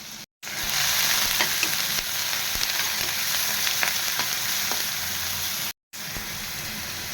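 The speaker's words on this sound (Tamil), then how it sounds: "வெங்காயத்தை லேசாக வதக்கிவிட்டா போதும், ரொம்ப வதங்கணும்னு அவசியம் இல்லை, லைட்டாக வதக்குனா போதுமானது." Onion lightly sautéing in a pan for stuffed chilli bajji filling, a dense close sizzle with occasional stirring taps, interrupted by two short silent cuts; nobody talks.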